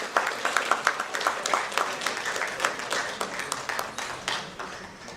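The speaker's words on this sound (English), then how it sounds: "A big round of applause for JSW Steel." An audience at a World Standards Day award ceremony claps for an honoured company, a moderate, fairly even patter of hands that carries on steadily without speech over it.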